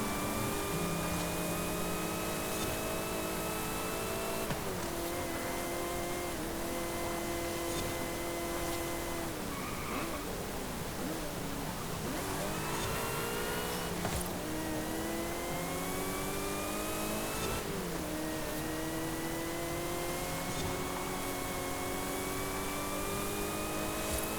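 A Mitsubishi Evo races in Forza Horizon 5, its engine droning steadily and revving up through the gears in repeated rising sweeps, with brief dips at each shift, sustained and close throughout.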